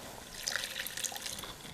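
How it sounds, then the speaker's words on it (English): Water is poured into a pan of simmering Brazilian-style spaghetti meat sauce, giving a soft, brief trickle and splash with light bubbling, faint and close, without speech. "I'm going to add a little more water."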